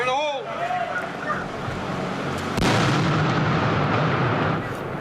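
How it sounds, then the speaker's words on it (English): A backpack detonated by police as a precaution in an evacuated public area goes off with a sharp blast midway through, followed by a broad rumbling wash of noise and crowd ambience. "Police detonated the backpack as a precaution after evacuating the area"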